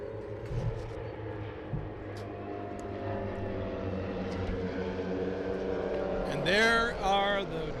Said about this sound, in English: There are the Dawn Patrol air show aircraft that just passed over. They're flying RV aircraft.